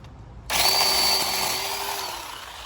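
Cordless 18V 10-inch chainsaw starting abruptly and whining steadily as it cuts through a branch about an inch thick, a loud, close, high-pitched motor buzz that tapers slightly toward the end.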